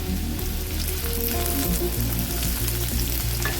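Chopped onion and curry leaves frying in hot oil for a chicken dish, a loud, dense, continuous sizzle and crackle close by, with no speech.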